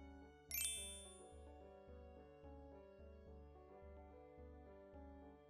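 A bright notification bell ding rings once near the start, then fades out over a soft repeating musical backing.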